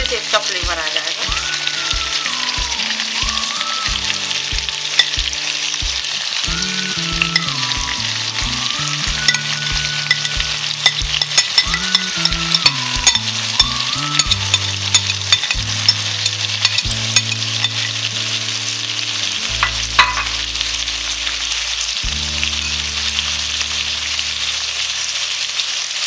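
Stuffed masala parwal (pointed gourd) cooks in a pan over a slow gas flame, giving a steady, even sizzle that runs the whole time beneath melodic background music, with no voices.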